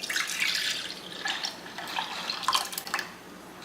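Grape juice poured into a measuring cup for grape jelly canning, a steady liquid splashing and trickling with brief surges, close and moderately loud, no talking.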